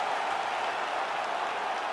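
Arena crowd roaring and applauding after a five-round UFC fight goes the full 25 minutes in EA Sports UFC 5; a steady, dense wash of cheering and clapping, loud and unbroken, with no talk.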